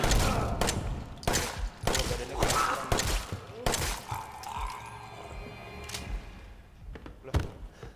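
Gunfire in the horror video game Resident Evil 7: a string of sharp, loud shots at irregular intervals over the first several seconds, then sparser impacts, with someone talking briefly between them.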